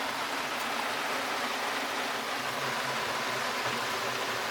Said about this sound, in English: Oh, The rains are here.